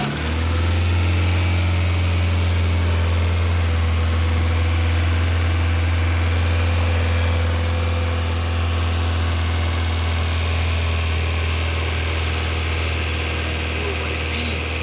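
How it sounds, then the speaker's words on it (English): Car engine idling on the street while warming up after a coolant hose repair, a loud, steady low rumble with constant vibration that runs unchanged throughout, with no voices over it. "we need to warm up the car. Yeah, You know, let it idle, warm it up"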